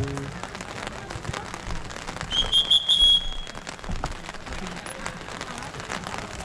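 Rain falls steadily outdoors at a football match, a dense patter of drops hitting surfaces throughout, with a brief whistle blast in the middle and faint voices in the background.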